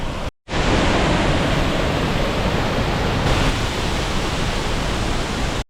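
The Gitgit twin waterfall in the North Bali jungle roars as a steady, loud, close wash of falling water that fills the whole clip after a brief gap at the start.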